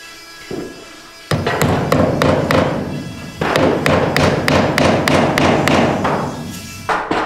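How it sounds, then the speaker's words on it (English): A hammer drives nails into a new neoprene weather seal around an observatory dome's azimuth ring, sharp close thuds in quick irregular bursts, each strike ringing briefly with pauses between the series. "nailing it in so we have a nice weather seal all the way around the azimuth"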